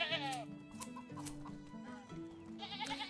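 Sheep in the medieval farming game Medieval Dynasty bleat several times in short wavering calls over a layered ambient game backdrop, fairly close and moderately loud.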